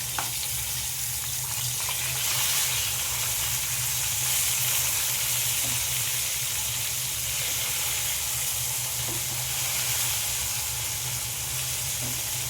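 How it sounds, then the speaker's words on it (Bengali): Rohu fish pieces frying in oil give a dense, continuous sizzle and hiss from close by, steady in loudness for the whole stretch, with faint scattered pops and no talking. "মাছগুলো ভালো করে আমি ভেজে নেব।"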